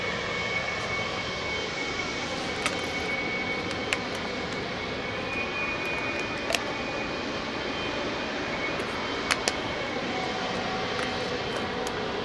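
Steady, loud engine roar of a jet airliner fitted with Rolls-Royce Trent 700 engines at London Heathrow, a continuous broadband rumble with a faint high whine, holding evenly throughout with a few brief clicks.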